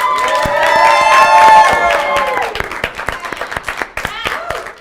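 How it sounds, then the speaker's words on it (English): A studio audience at a campus late-night talk show claps and cheers loudly, a sustained whoop and applause swelling then breaking into scattered claps, with a voice speaking over the end. "Thanks for clapping for me, guys."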